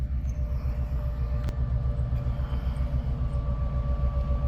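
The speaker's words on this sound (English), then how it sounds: "we got this classic old train coming" An old Chesapeake and Ohio locomotive approaching on the Hocking Valley Scenic Railway near Nelsonville, Ohio, a steady low diesel rumble with faint higher tones over it, moderately close and constant.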